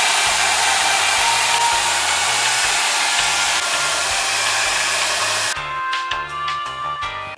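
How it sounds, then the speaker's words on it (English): A hair dryer fitted with a diffuser drying curly hair blows with a loud, steady whooshing hum for about five seconds, then cuts off, leaving a few lighter clattering handling sounds. "I'm going to use the diffuser as well"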